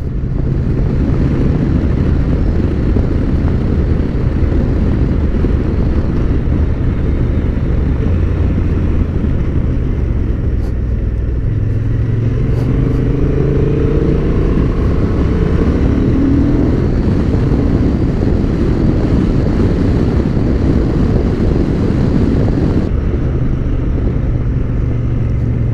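A Honda XL750 Transalp motorcycle rides along a bumpy road with a steady, loud engine drone mixed with constant wind rush. The engine pitch rises and falls with gear changes partway through.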